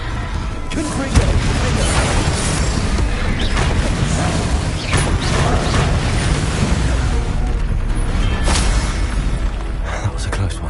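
A Confringo fire spell blasts in Hogwarts Legacy, a fiery explosive burst set among a dense run of booms, crackling pops and shattering debris that fill the stretch continuously at loud level.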